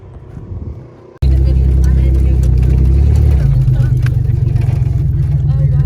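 A car's engine runs loud and close while trail riding at Wildcat Offroad Park, kicking in suddenly after a quieter idle and then holding a heavy, steady drone with a shift in pitch midway.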